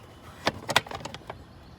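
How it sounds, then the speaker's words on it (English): Someone raises the hinged door of an air conditioning unit's main power shutoff box, making a quick run of sharp metallic clicks and clacks over less than a second, close by. "To turn it off, we're going to raise the door"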